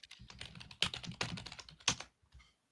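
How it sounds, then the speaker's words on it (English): Fast, uneven typing on a computer keyboard, with close clicky key presses in bursts and a few louder strikes, heard alone at low level. "I was typing."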